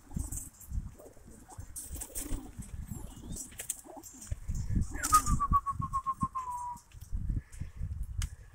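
Pigeons close by in moulting season, with soft intermittent cooing and rustling wing flutters, a brief flap burst near the middle and a thin whistle-like tone trailing off, in a quiet setting.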